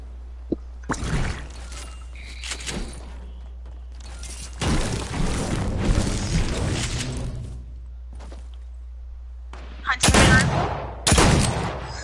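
Gunfire in a shooter video game: sharp bursts of shots and rapid volleys come in clusters, loud and close, separated by quieter stretches.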